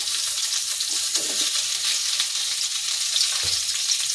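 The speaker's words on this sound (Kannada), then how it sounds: "ಈರುಳ್ಳಿ ಹಾಕ್ತಿದ್ದೀನಿ ಹಾಗೆ ಮೆಣಸಿನ್ಕಾಯಿ" Sliced onion and green chilies hit hot oil in a pan for drumstick-leaf bassaru, a loud, close, unbroken hiss of frying with a couple of faint stirring knocks.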